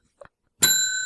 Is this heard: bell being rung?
yes